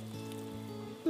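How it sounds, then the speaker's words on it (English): Very hot tap water runs in a steady, soft patter and hiss over a plastic glue applicator, faint and continuous, with a brief louder spike at the end. "So all I'm going to do is put this under hot water like this, really hot water."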